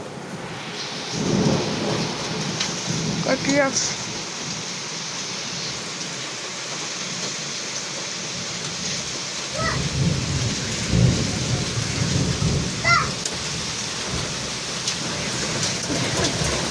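A heavy downpour with wind and thunder in Kurgan, rain hissing steadily while thunder rolls in several swells, loud and close, and a person briefly speaks over it.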